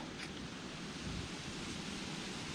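Steady, loud wind buffets the microphone outdoors during evening float fishing for crucian carp, a continuous broadband rush with no pauses and no voices.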